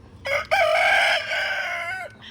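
A rooster crows loudly and close by in one long, drawn-out call, preceded by a short clucking burst, with no talking.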